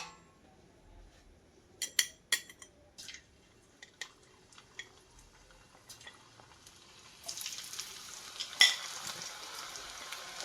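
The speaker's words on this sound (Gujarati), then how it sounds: "તો હવે આપણે તેને તળી લઈએ." Dried raw potato sticks for french fries lowered into hot oil in a large pan, beginning with scattered clinks and drips, then building into a steady, close hiss of frying with one sharp splash near the end, no voices.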